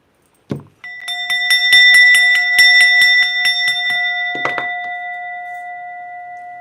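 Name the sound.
hand bell ringing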